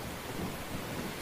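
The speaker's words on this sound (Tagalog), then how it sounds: "Umihip ang malakas na hangin at sobrang malakas din ang ulan, kulog at kidlat." Stormy weather with heavy rain and strong wind, a steady dense rushing wash with a low rumble of thunder beneath, continuous and moderately loud throughout.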